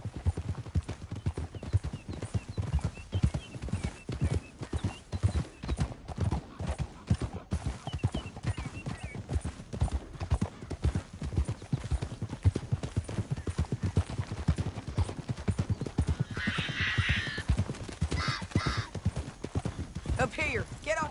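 Galloping horse hooves in the Red Dead Redemption 2 video game, a steady rapid clip-clop running throughout alongside game sounds and music, with occasional whinnies and characters talking over it.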